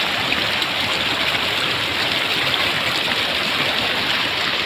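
Floodwater rushes over submerged rice paddies at Nauhan in Oriental Mindoro, a steady, loud broadband wash of flowing water that holds without pause from start to finish.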